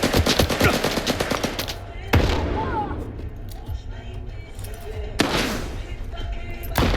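Automatic gunfire in the S.T.A.L.K.E.R. 2 video game erupts in loud rapid bursts, broken by short pauses, with game voices heard between the volleys.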